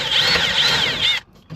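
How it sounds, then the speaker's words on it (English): Power drill boring holes for speaker mounting in a 1980-91 Squarebody Chevrolet Silverado or GMC Sierra truck, a loud steady whine lasting over a second close by, then cutting off abruptly. "Just make sure when you're drilling these holes that you do not hit these wires right there like I did."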